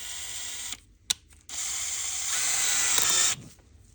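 A handheld drill spins at high speed, polishing the seat inside a Harley-Davidson CV40 carburetor with metal polish on a Q-tip, in two steady runs separated by a short pause, close and fairly loud.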